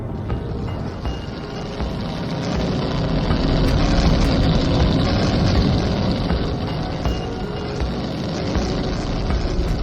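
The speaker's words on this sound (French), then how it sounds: "Je peux tenter d'activer notre moteur à distorsion d'urgence." An emergency warp drive engine on a spaceship powers up: a dense, steady broadband rumble with a deep low hum fills the whole stretch, swelling slightly louder midway and holding without a break.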